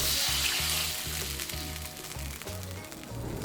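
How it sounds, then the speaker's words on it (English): Sauce with dried chilies and garlic bubbling and sizzling loudly in a stir fry pan, a continuous close hiss with a low rumble, no talk. "Now just give that a bit of a stir and let it bubble away"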